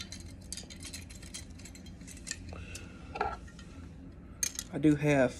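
Queen Cutlery Frost Bottom knives and forks clink and rattle against each other nearby, with scattered light taps building to a louder cluster of clattering near the end.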